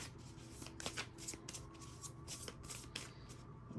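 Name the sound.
tarot cards being shuffled and drawn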